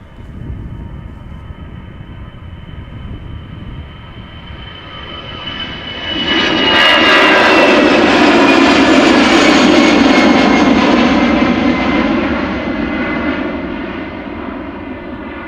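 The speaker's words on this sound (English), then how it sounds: "EasyJet A319 going to Birmingham." A 14-year-old EasyJet Airbus A319 jet takes off at Amsterdam Schiphol, its engine roar swelling from a distant whine to a loud, broad rumble that stays strong and then slowly fades.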